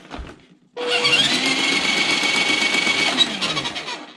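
Motor of a Carson 1:8 Land Rover toy-grade RC car running in its high setting, a sharp buzzing whir that kicks in after a brief pause and holds steady for several seconds, close by.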